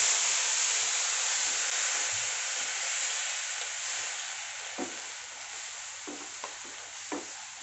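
Milk hits roasted desiccated coconut in a pan for rose gulkand modak, a bright hissing sizzle that slowly fades, followed by a few light stirring taps.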